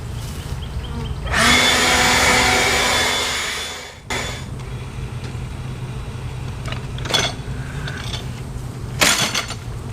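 A bee blower roars loudly for about three seconds as it clears bees out of a full honey super box in a bee yard, then cuts off, followed by quieter outdoor hum and a few brief knocks and bursts.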